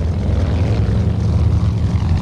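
Hughes H-1 racer in Flight Simulator X, its propeller engine holding a steady, loud, close drone with a pulsing low rumble throughout, no talk over it.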